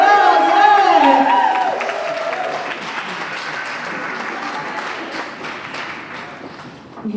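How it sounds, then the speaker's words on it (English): An outdoor crowd applauds at a Boston 250 launch event in Roxbury, clapping loud at first and then thinning to a steadier, lighter patter with scattered cheers as it tails off. "Give a round of applause to both Jeff and Diane from the Luminous for lighting this place up."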